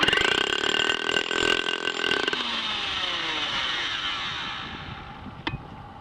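A heavy SDS max concrete power drill roars loudly, then winds down in a long fading whine after release, with a brief clack near the end.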